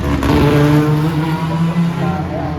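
1930s vintage race cars roaring up Aberdeen Street during the Albany Classic street race, a loud, close, continuous engine drone with rising revs, heard under a commentator's voice.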